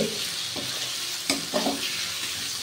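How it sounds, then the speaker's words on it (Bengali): Spices including red chilli powder are being cooked down with soybeans in a pan, heard as an even frying hiss with several short scraping stirs, near and without talk. "এরপর আমি সমস্ত মশলাটাকে খুব ভালোভাবে কষিয়ে নিচ্ছি"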